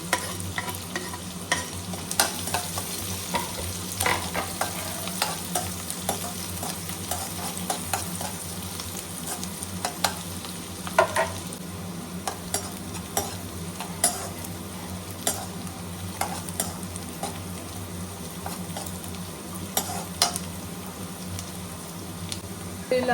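Onions, garlic and green chillies fry in hot oil in a steady, close sizzle, broken throughout by frequent sharp clicks and scrapes of stirring.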